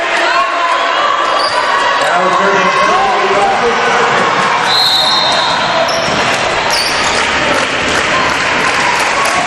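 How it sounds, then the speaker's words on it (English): Crowd at a women's college volleyball match between Tampa and Barry cheering loudly and continuously in an indoor gym, with applause, squeaks and a commentator talking over the noise. "The crowd cheering their Spartans on."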